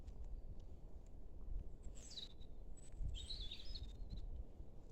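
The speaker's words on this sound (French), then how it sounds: "Et puis ces oiseaux, hein, vous les entendez." Faint high birdsong chirps and trills drift in over a steady low rumble, distant and intermittent.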